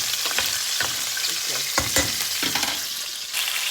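Carrot and onion fry in oil in a pan, a continuous sizzle with scraping stirs and occasional spatula knocks, close and fairly loud, with no talking.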